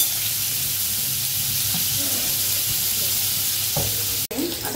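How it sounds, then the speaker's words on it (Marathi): Paneer frying in hot oil, a continuous loud hissing sizzle with occasional stirring clatter and a sharp knock near the end. "पनीर तेलात फ्राय करून घ्यायचे जरा"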